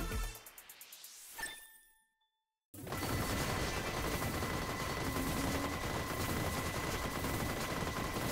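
Gunfire in Vampire Survivors as sentinels get shot: rising electronic chimes, then a short silence, then a steady, dense wall of rapid shooting and clinking hits that holds at an even level.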